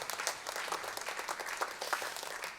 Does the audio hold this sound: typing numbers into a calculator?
no